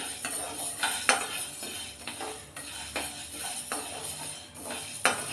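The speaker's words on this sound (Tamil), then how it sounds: "இது நல்லா வறுத்து எடுத்துக்கலாம் ஒரு ரெண்டு மூணு நிமிஷத்துக்கு வறுத்தோம் அப்படின்னா நமக்கு நல்லாவே வறுபட்டுரும்" Green gram being stirred as it dry-roasts in a pan for a Tamil-style gravy: repeated scraping and light clinks of a spoon against metal at an uneven rhythm, close and moderately loud, with no speech.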